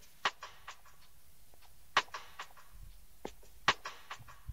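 A snare drum stem isolated by AI from a song: sharp, crisp snare hits at an irregular rhythm, with a few softer ghost strokes between the loud accents, heard alone and dry.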